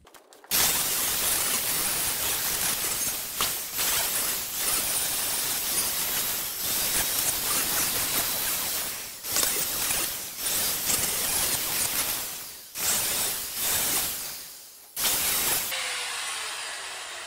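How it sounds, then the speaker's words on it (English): Angle grinder fitted with a 40-grit flap disc grinds the metal frame of a John Deere X300 mower, a loud continuous abrasive hiss in long passes broken by brief pauses, close up with no talk. "you just saw me do a time lapse of grinding there"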